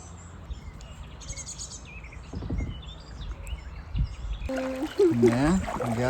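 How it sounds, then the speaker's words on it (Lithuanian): Birds chirp and call intermittently beside the Vilnelė river during a kayak trip, with water and paddling noises and people's voices rising toward the end. "Kažkokie keisti paukščiai."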